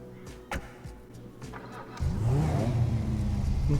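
A Bravado Banshee sports car engine in Grand Theft Auto idles with a low purr, then jumps into a loud, sustained rev that holds steady to the end.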